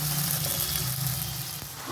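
Spice paste made with cumin sizzles and fries in oil in a pan, a steady close hiss with light crackle and no talking.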